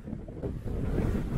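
Strong wind buffets the microphone outdoors on a Scottish highland hiking trail, a continuous loud rumbling roar that gusts unevenly throughout.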